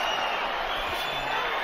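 A boxing arena crowd roars after a left hook, a dense sustained cheer that fills the short span evenly, with a high whistle running through it.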